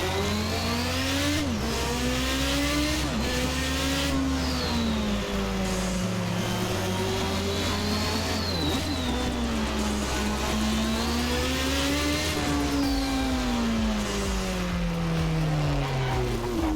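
A Toleman T184 Formula 1 car in the Assetto Corsa racing game, its loud, continuous engine note rising and falling as it downshifts and accelerates, dominating throughout with no talking.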